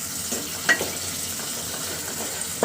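Turmeric, chili, coriander and salt sauté in hot oil in a pan, a steady hiss with a couple of brief scraping stirs, close up and without talk.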